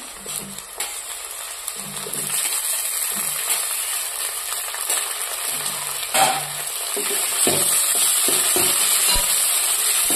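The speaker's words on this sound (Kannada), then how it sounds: "ಟೊಮೆಟೊ ಹಾಕಿ ಟೊಮೆಟೊನು ಫ್ರೈ ಮಾಡ್ಕೊಂಡು" Tomatoes and onions frying in a pan for a dhaba-style curry, a steady broadband sizzle with occasional clinks and scraping of a spoon, close and continuous without talk.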